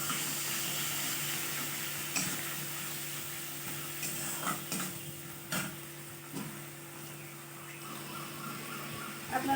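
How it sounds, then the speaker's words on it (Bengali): Onion paste frying in hot oil for a Bengali potol and egg curry, a soft steady sizzle with occasional small pops and spoon stirs, faint and close, with no talking. "আমি পেঁয়াজ বাটাটা তেলের মধ্যে দিয়ে দেবো।"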